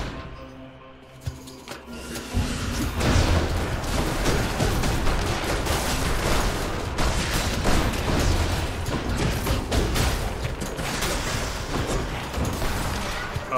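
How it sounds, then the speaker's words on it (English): Rapid, continuous booms and gunfire-like blasts from the video game Hades rattle on for many seconds, dense and loud, like synthetic game explosions layered together. "Explosions."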